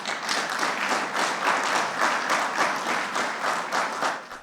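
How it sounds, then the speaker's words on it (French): Applause fills a parliament chamber during a state-of-the-nation address, a dense, steady wash of many hands clapping at moderate distance, sustained throughout before tapering slightly at the end. "Dans l'hémicycle, les applaudissements éclatent."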